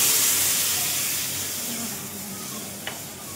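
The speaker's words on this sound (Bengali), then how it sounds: "আমার তরকারিটা কষানো হয়ে গেছে, এবার আমি জলটা দিয়ে দিলাম।" Water poured into a cooked-down fish curry in a hot pan, giving a loud steamy hiss and sizzle that slowly fades, with a small clink near the end.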